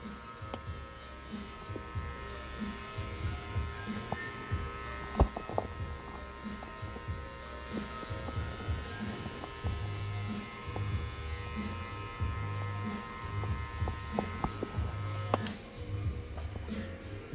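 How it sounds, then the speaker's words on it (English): Electric hair clippers buzz steadily through a haircut with a number 2 guard, a close, continuous hum that shifts slightly as strokes blend the hair, with faint ticks and handling noises around it. "I'm going to go down to a size 2 or a number 2 clipper guard."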